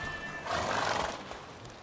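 A horse whinnies in The Witcher 3: Wild Hunt after a race, a single strong neigh rising and fading over about a second, with faint hoof clip-clop and game ambience around it.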